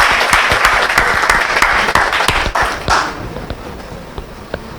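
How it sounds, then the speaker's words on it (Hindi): Loud applause from an audience at a Hindi kavi sammelan (poetry recital event), dense clapping for about three seconds before thinning out into scattered claps. "एक बार जोरदार तालियां से रवि जी को प्रोत्साहन दे दीजिए आप।"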